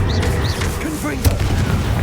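A Confringo fire spell from a Harry Potter video game lands as one sharp blast about midway, rising briefly above a steady rumbling game background.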